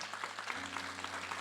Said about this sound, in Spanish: Denle un aplauso al Señor porque Él es hermoso.